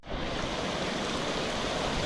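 Clear Creek in the Colorado mountains, a steady broadband rush of flowing water, close and continuous with no voices.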